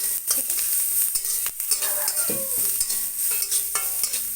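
Onions sizzle in a little oil while a spatula scrapes and stirs them, with a steady frying hiss under the clatter.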